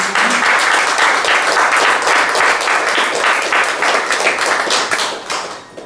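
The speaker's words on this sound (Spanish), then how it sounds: "Dale un fuerte aplauso al Señor." A church congregation bursts into loud, vigorous applause for the Lord, many hands clapping close and steady for several seconds before fading out.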